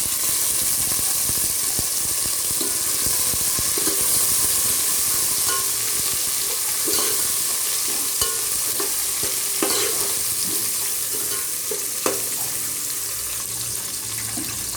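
Tomatoes, mint and coriander leaves frying in a pan for biryani make a loud, continuous sizzle, with intermittent stirring scrapes and clinks throughout.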